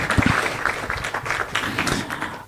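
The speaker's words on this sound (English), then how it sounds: "Clap hands for Nelson, please." Audience at a climate and health forum applauds a speaker coming onstage, a loud burst of mixed hand clapping that stays busy and close for the whole stretch, with no talking over it.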